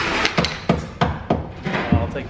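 A small hammer strikes a bolt into the edge of sheet metal near a drift car's roll cage, with about seven sharp metallic whacks at an uneven, steady pace, close and loud.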